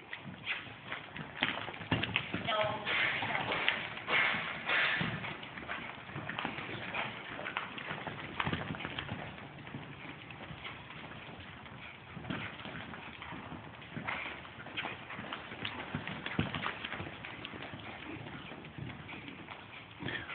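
A pony's hooves clip-clopping at a steady walking rhythm for about twenty seconds, close and fairly loud, with faint outdoor background noise.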